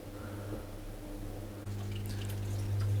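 Dyson CR01 washing machine draining water from its drum mid-rinse, a low steady pump hum with gurgling flow that grows louder and rougher halfway through, no talking.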